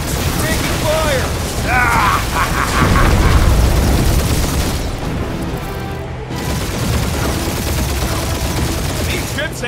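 Sustained gunfire and explosion booms in Marvel's Guardians of the Galaxy, a dense, loud barrage of weapon fire and mechanical clatter running throughout, with character voices shouting over the combat.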